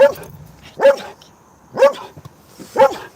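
A dog barking loudly and close by, four single barks spaced about a second apart with quiet gaps between them.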